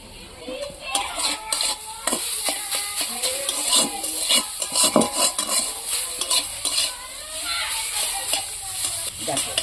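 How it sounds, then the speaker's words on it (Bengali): Vegetables being stirred and fried in a pan for a spice-free Bengali vegetarian curry, with repeated scraping and clinking of a spatula over a steady sizzle, close and fairly loud throughout. "একটু ভালো করে নাড়াচাড়া করে একটু ভেজে নেব"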